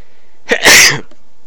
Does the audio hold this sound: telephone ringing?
no